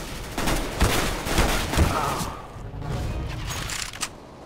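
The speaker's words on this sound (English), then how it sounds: "I keep shooting." Gunshots in CS:GO training, a string of sharp reports at moderate loudness with a quieter rattling stretch after, no talking over it.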